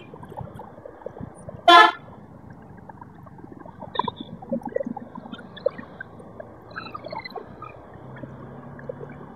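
A car horn honks once, sharp and fairly close, in light city traffic in Hoshiarpur. Faint scattered vehicle noise and distant toots continue quietly around it.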